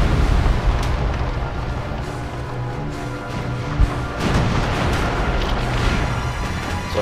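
Artillery fire and explosions rumble continuously in the Theatre of War video game, with dense, loud booms and crashing blasts layered over one another.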